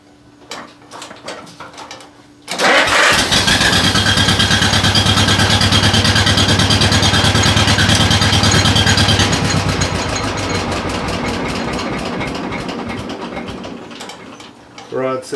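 A motorcycle engine cranks and catches after the ignition is switched on, then settles into a steady, loud close-up idle with a low rumbling pulse. The idle slowly eases off and the engine shuts down near the end, with faint background sounds before it starts.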